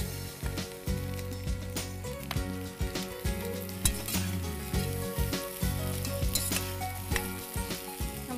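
Capsicum sizzling in a frying pan while cooking pasta masala, a dense, steady crackling fry up close, broken by frequent sharp clinks and scrapes of stirring.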